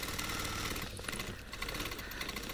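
A longarm quilting machine stitches feathers on a vintage floral applique quilt with a steady, close mechanical hum and rapid needle rhythm, a brief dip mid-way, and no talking.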